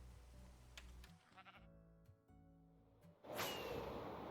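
Sheep in the Minecraft video game bleat in short, separate calls over faint game background sound, ending in a louder rushing swoosh.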